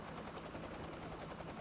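A drone buzzing steadily through a video game, its continuous rotor whir holding level and fairly quiet the whole time, with no voices over it.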